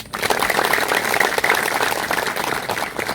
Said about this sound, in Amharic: እዚህ ለተገኙ ክብር እንግዶች፣ ለክላስተር አመራሮች ሞቅ ያለ ጭብጨባ አድርጉልን።